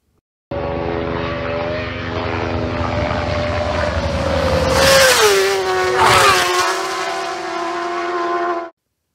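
A Superbike races past on the Isle of Man TT road course, its high-revving engine whine swelling loud, then dropping sharply in pitch as it passes and fading slightly, with no talk.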